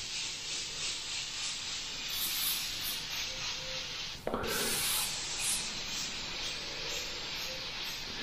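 An Iwata HP-BCS airbrush with a 0.5mm nozzle sprays paint as a steady close hiss, continuous and even throughout with a brief dip and burst partway through.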